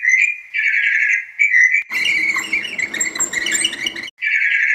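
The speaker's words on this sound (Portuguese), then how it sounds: "Excelente! Um pássaro!" A bird chirps and tweets in quick repeated bursts, clear and close, with a noisy rustling stretch in the middle before the chirping returns.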